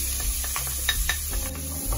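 Onion and browning garlic sizzle steadily in a pan for a Peruvian cau cau de librillo stew, with a spoon scraping and stirring in short strokes and a couple of sharp clinks against the pan.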